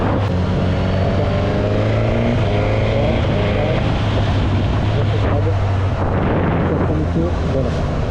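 A Suzuki GSX-S 1000 motorcycle running on E85 ethanol, its engine droning loud and steady at low revs while riding, with wind rush and a gear downshift, someone talking over it.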